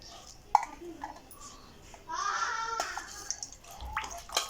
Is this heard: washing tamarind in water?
yes